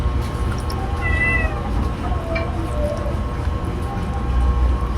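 Several small kittens meow in short, high calls at feeding time over a steady low background rumble, with no talking.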